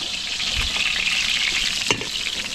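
Garlic and onion sautéing in a pan for butter garlic shrimp at a catering event at a private resort in Arayat, Pampanga, giving a continuous bright frying hiss with one brief clatter of stirring near the end.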